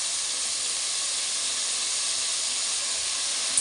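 Eggplant pieces dropped into a pan of frying onions set off a loud, steady, continuous sizzle and hiss that holds evenly throughout, with no talking over it.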